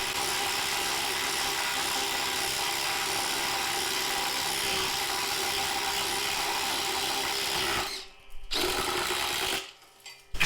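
A cordless impact driver drives a 4 inch by half inch lag screw into timber, whirring and rattling hard and close for about eight seconds, then cutting out, briefly restarting and stopping again.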